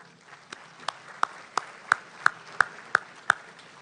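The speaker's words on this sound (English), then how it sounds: "Can we give these businesses a big round of applause?" Sparse, isolated hand claps at a Chamber of Commerce monthly luncheon, roughly nine separate slaps spaced evenly over a few seconds, moderately close and fairly faint, with no crowd swell behind them.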